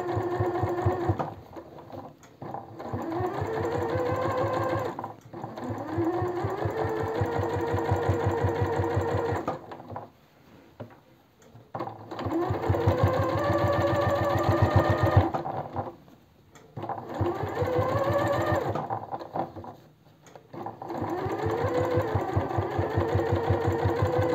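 A sewing machine re-stitches the edge of a silk raglan-sleeve blouse in several long, steady humming runs of rapid needle strokes, separated by brief pauses and quiet handling, close and loud.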